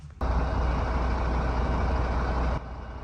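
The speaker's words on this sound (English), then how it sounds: "Using the air suspension, lower the back axles as much as you can." A truck's air suspension lowers the back axles before hooking up a trailer, a loud steady hiss of releasing air starting abruptly and cutting off after about two seconds over a low engine idle.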